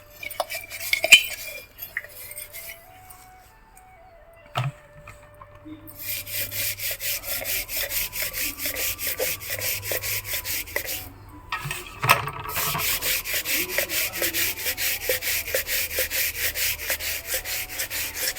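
Coconut fibre scrubbed against wet copper and brass vessels, a steady rasping rub repeated in long even stretches, close and fairly loud, with a few clinks of metal and a short pause between bouts.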